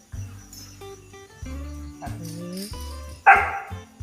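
A puppy gives a run of short, sharp barks and yips close by, with a brief whimper and faint birdsong behind it, and a person speaks in between the barks.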